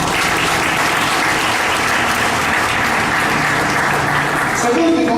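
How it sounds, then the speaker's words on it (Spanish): A church congregation claps together in sustained, dense applause that fills the space evenly throughout, with a few faint voices mixed into the crowd noise. "Si entendiste, dale un aplauso al Señor"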